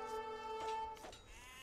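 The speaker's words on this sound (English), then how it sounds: "Blue is stealing red sheep." A single drawn-out, wavering sheep bleat from a strategy video game, clear and close, followed by a shorter second call fading out.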